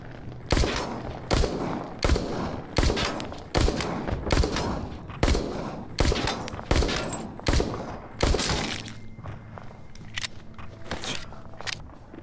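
Gunfire from a gun in Saints & Sinners rings out as a rapid series of loud, close shots, about a dozen bursts in uneven rhythm. Quieter clunks and handling noises follow after the firing stops.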